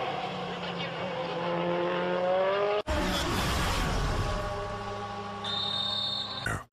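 A WTCC touring car roars past on the Russian circuit in 2014, a loud engine drone with a sharp cut and then a burst of broadband track noise. A commentator talks over it.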